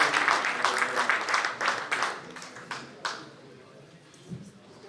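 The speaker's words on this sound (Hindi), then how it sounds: "इस्तकबाल कीजिए भरपूर तालियों में" Applause from a mushaira (poetry gathering) audience in Toronto, dense clapping for a few seconds that thins out and fades into quiet room noise.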